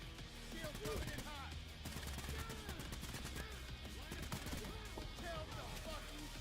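In Payday 3, gunfire strikes an armored tactical vehicle rolling in: rapid, sustained bursts of shots and metallic impacts crowding together, with a voice talking over the firefight and game effects layered beneath.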